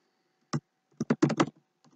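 Several clicky keystrokes on a computer keyboard as a short word is typed, a single tap then a quick burst of four or five presses and a faint final tap, close and isolated against silence.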